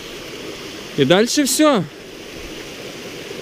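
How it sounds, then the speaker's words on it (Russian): A waterfall on a hiking trail in Julia Pfeiffer Burns State Park gives a steady broadband rush throughout, with a person speaking briefly over it. "Красивый водопад."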